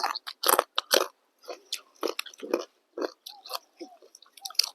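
Crispy pork crackling being bitten and chewed up close, with bursts of loud crunching separated by short pauses and occasional murmured voices.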